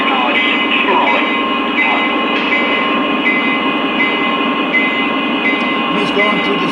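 A Lionel GN SD45 model train locomotive runs steadily, a continuous loud rolling rumble with a faint rhythmic clatter throughout and no pauses.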